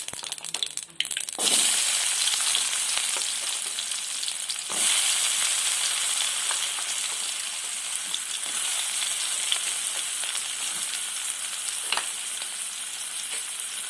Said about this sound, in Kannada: ಈರುಳ್ಳಿ ಎಣ್ಣೆಲಿ ಚೆನ್ನಾಗಿ ಬೇಯಬೇಕು ರೀ.